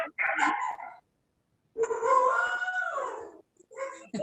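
Several dogs howl together in long, wavering, overlapping howls, with a short burst, a pause and then a sustained chorus, fairly close and loud.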